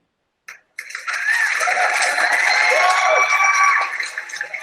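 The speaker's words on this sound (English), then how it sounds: "The clapping of hands is actually louder than with me than the other speakers now." Applause from an audience at a business panel on BPO ventures, hands clapping in a dense, sustained burst after a brief knock, swelling quickly and holding steady before tapering slightly.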